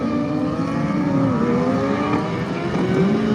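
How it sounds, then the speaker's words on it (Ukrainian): Several racing motorcycle engines warm up at a circuit race, droning and revving continuously at a distance, pitches rising and falling as they idle and blip, with no voices. "Ми вже чуємо цю прогрівочку."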